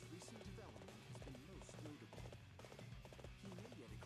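Horse hooves clatter in a rhythmic clip-clop gallop in Dynasty Warriors 8, steady and continuous across the battle's busy background noise, with a voice talking over it.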